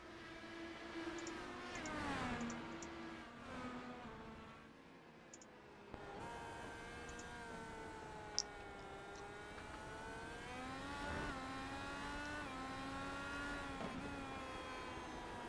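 Race car engines in the iRacing sim at Circuit Zandvoort, IR18 open-wheel cars, rising and falling as several cars pass and shift with steady whining tones, continuous and fairly close throughout.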